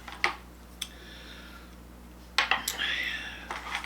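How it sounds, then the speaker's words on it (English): A sauce spoon is pulled out, with a few sharp metallic clinks of cutlery near the start and more clattering and rattling later, close by and fairly quiet. "So we have to get out the sauce spoon."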